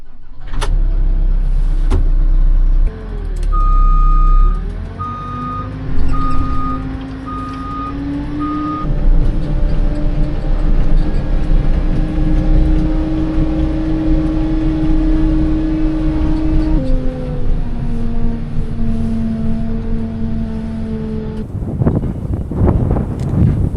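A grapple-equipped vehicle drives along toward a farm, its engine droning steadily with a shifting pitch while a repeating reversing beep sounds early on, with wind buffeting the microphone throughout.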